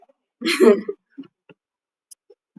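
A person gives one short, rough cough and throat clear, followed by a few faint clicks and small noises in an otherwise quiet room.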